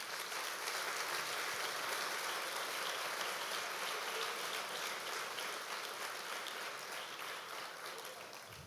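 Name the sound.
congregation applauding in church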